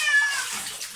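A soapy cat being bathed lets out a close, drawn-out crying meow with a steady wash of water noise behind it.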